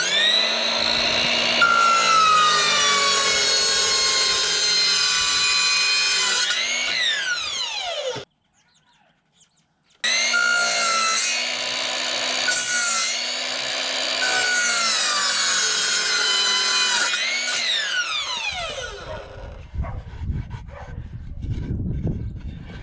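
A power saw with a carbide-tipped blade, dulled from cutting flooring, cuts wood baseboard and door trim in a tiny log cabin. Loud whining passes rise and fall as the blade bites, with a short silent gap midway and a final cut trailing off.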